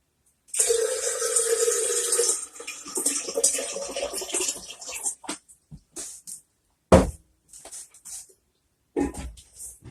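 Water poured into a jar while washing Ormus on the ninth wash: a steady splashing pour at first, then short broken bursts of liquid and clinks with gaps of silence between them.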